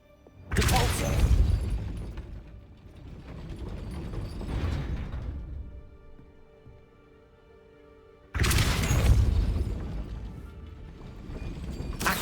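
Depulso spell cast in the video game Hogwarts Legacy: two loud, broadband magical bursts with crashing, mechanical rumbling tails, the first near the start and the second after a quieter gap, alone with no talk.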